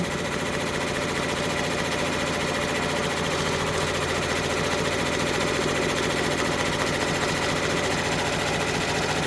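An embroidery machine stitching the placement line for the circle on an OESD freestanding quilt block pumpkin, a steady, dense, rapid mechanical whirring and ticking that runs unbroken and close throughout.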